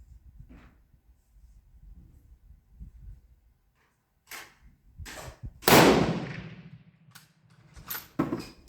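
A 1939 Tula Mosin-Nagant rifle fires one loud, close shot with a sharp crack and a ringing decay, surrounded by quieter clicks and handling noises of the bolt and gear.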